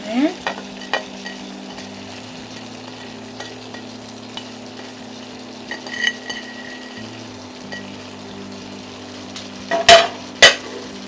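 Lentil chili with fresh tomatoes, garlic and cilantro stirred in a pot, with a low steady simmer, a few soft scrapes of the spoon and a couple of sharp clinks against the pot near the end.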